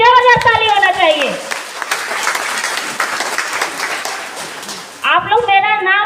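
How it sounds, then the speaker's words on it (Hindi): Enthusiastic applause from an audience fills the middle of the clip, dense clapping framed by a person speaking loudly before and after it. "तो फिर से हम चाहेंगे तहे दिल से एक बार रोशन भैया के लिए जबरदस्त ताली होना चाहिए।"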